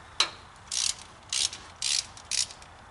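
A ratchet clicks while loosening bolts on the injector pump of a Caterpillar generator set, four or five short bursts of rapid pawl clicking separated by brief pauses, close and clear.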